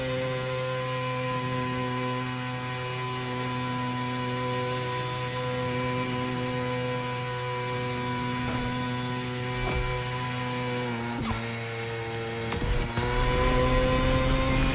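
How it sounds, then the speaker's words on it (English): A supercharged motorbike engine in the racing game The Crew Motorfest holds a steady, loud, whining drone with a turbo-like tone throughout. Brief clicks and a rise in revs come near the end, and no one speaks. "This is meant to be a supercharged charged engine, but it seems to sound like it's got a turbo sound"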